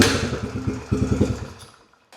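A Ski-doo snowmobile engine, fitted with generator parts, sputters and clatters as it starts and runs briefly, with uneven thumping pulses before the sound fades out near the end.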